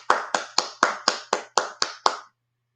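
Nine sharp hand claps at a steady pace from a single person close by, each one crisp and separate, followed by silence, in a casual live chat setting.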